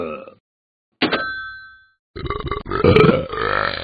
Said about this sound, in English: Stop the burping.